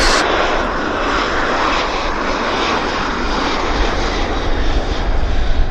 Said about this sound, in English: Pretty big airplane. I think it's almost an A320 replacement.